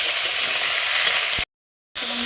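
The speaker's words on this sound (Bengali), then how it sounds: "কেটে রাখা আলুগুলো এটাও আমি ভালোভাবে একটু নাড়াচাড়া করে ভেজে নেবো" Cut potatoes being stir-fried in a pan for aloo posto, a loud close sizzle broken by a brief silent gap before the frying noise resumes.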